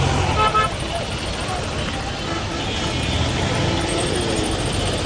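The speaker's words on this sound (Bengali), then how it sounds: "যানজট আস্তে আস্তে হয়তো কমবে" Dense, steady roar of a jammed Dhaka road near the Gabtoli cattle market, with engines idling and short car horn toots poking through, while a person talks over the din.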